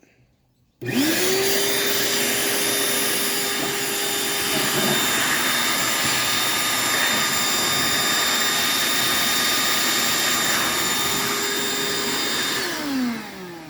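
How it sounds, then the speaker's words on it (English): Compressed air blasts through the gas intake orifice of a Suburban SF-30F furnace, a sudden loud, steady rushing hiss that holds for about twelve seconds before tapering off, close and with no speech. "I'm going to blow some air through both sides of that."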